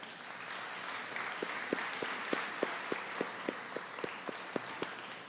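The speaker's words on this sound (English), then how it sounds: "Graduates, please join me in applauding your lecturers" Graduates applaud their lecturers at a college graduation ceremony, a soft, steady wash of many hands clapping in a large hall, with a few sharper individual claps standing out near the front.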